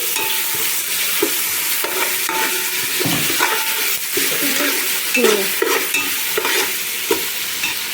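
Ginger paste fries in a pan with cumin for a vegetable paneer biryani, giving a steady loud sizzle throughout with repeated scraping and stirring clatters, with no voices.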